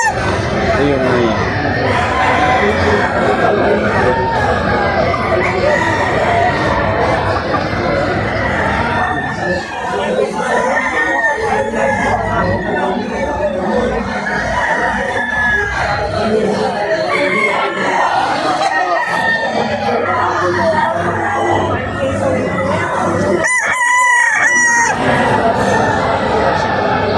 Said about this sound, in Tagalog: Kaya papakita naman natin ang kanyang mga manok.